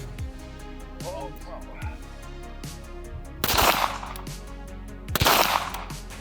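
Gunfire during a shooting training drill, two sharp loud bursts of shots standing out over a constant mechanical hum and background noise, with a few fainter cracks earlier on.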